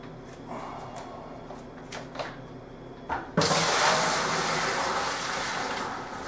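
Homebrew beer wort for a partial-extract IPA pours into a fermenting bucket with a sudden loud, steady gush of liquid after a few quiet knocks and handling sounds.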